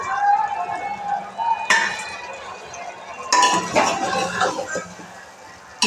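Potatoes stirred into a pot of homemade mutton curry, with metal spoon clinks and scraping against the pot and a sizzling clatter that gets busier toward the end.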